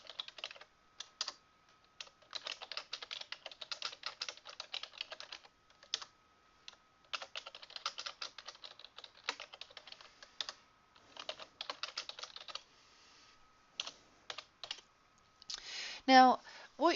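Rapid bursts of computer keyboard typing with clustered clicks and short pauses, keys pressed in fast runs while bullet points are entered, ending with a brief voice.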